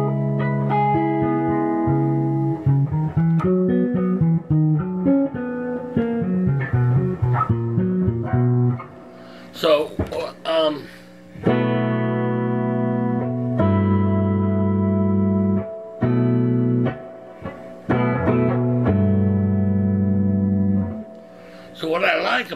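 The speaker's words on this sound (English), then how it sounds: "Turn that reverb off, and this is just straight through the amps." A dry electric guitar played straight through an amp with reverb switched off, ringing chords and single notes in short phrases separated by brief pauses, with no reverb tail.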